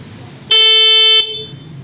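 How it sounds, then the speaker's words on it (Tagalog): A car's stock horn gives one loud, sustained honk of under a second, sharp and close, with quiet surroundings before and after. "Tapos yan, busina. Ayan, yan, ano natin. Mabibingi ako dito. Let's go. Stock horn."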